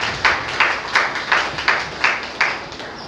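A church congregation at a Catholic Mass in Chennai claps to welcome a newly baptised member, producing several rhythmic bursts of applause at an even pace, moderately loud with no voices over it.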